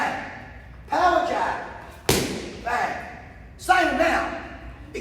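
Jab punches from a Muay Thai power-punching demonstration land as sharp thuds on a pad or bag, four firm impacts spaced about a second apart, close and clear, with no talk over them.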